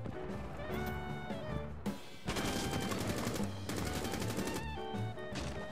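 Bursts of gunfire in the mobile shooter Rainbow Six Mobile, rapid automatic volleys that cut in and out over a steady musical game backdrop.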